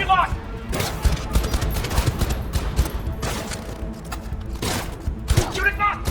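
Rapid bursts of automatic gunfire and scattered shots in a firefight from the video game Cyberpunk 2077, loud and dense throughout, with shouted voices cutting in near the start and end.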